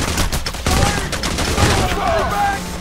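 Rapid gunfire in the video game Payday: The Heist, dense overlapping shots in a continuous loud barrage, with a voice faintly mixed in.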